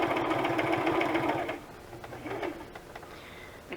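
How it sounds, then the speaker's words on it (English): A pink sewing machine runs steadily with a rapid mechanical whir, stops for a moment, then resumes in a shorter burst. "pink sewing machine that Clint bought"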